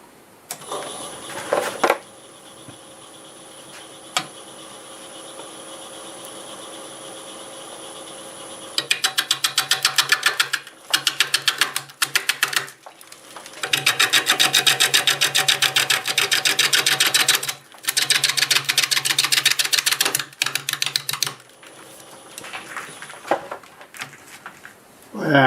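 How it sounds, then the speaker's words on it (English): A juniper blank spins on a wood lathe at about 500 RPM while a 5/8 bowl gouge cuts it, giving bursts of rough, chattering cutting noise between quieter stretches of the lathe's steady hum. "I've got this spinning about 500 RPM, and we're going to start with a 5/8 bowl gouge."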